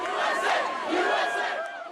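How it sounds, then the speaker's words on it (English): A large crowd cheers and shouts in the late-night streets outside the White House, a dense, steady roar of many voices with no single voice standing out. "the late-night streets outside the White House filled with cheering crowds"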